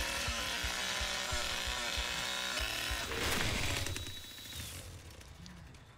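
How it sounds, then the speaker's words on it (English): A chainsaw in The Texas Chain Saw Massacre video game revs loudly with a sustained whining drone, surges briefly, then winds down into quieter rumbling and game noises. "Oh, a chainsaw."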